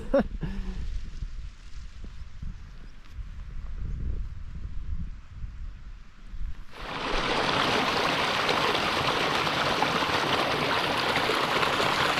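A river on Scafell Pike rushes beside a footpath, first faint with footsteps on stony ground, then swelling into a loud, close, steady broadband wash of flowing water that holds to the end.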